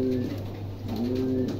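Two female Mundian pigeons coo in soft, repeated low warbling phrases close by, with no talking.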